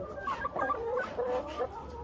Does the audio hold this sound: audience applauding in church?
no